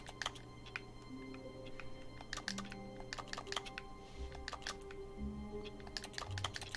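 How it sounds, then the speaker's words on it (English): Rapid, light keyboard-like typing clicks from the interact button in The Stanley Parable: Ultra Deluxe patter in quick bursts, fairly quiet, over a low electronic hum and faint background tones. "If you're wondering what the typing sound is, it's just the interact button."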